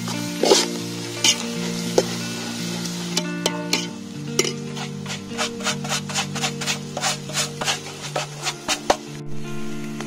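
Onions and masala spices (chilli powder, coriander powder, garam masala and pepper) sizzle in a pan. A utensil gives repeated scraping strokes that grow more rhythmic toward the end, close and clear, with no talk.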